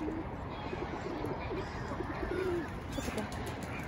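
Two pigeons sit together outdoors, one giving soft, low, repeated coos close by over a steady wash of background noise.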